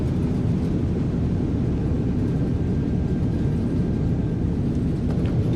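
Simulated A321neo in MSFS 2024 rolling out after landing with thrust reversers deployed, a loud steady roar of engine and wind noise with a faint whine throughout, no talk.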